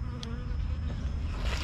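Honey bees hum steadily around beehives in an apiary in March, a continuous close buzzing drone with no talking.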